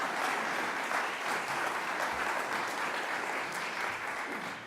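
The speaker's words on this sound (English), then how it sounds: "Let's give them again a round of applause." Steady, continuous applause from an audience honoring retired sanitation workers, a dense wash of clapping that holds at an even level throughout with no voices rising above it.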